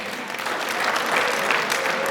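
Steady applause from an audience at an MC-hosted event, a dense even wash of many hands clapping that holds level throughout, moderately loud and unbroken by speech.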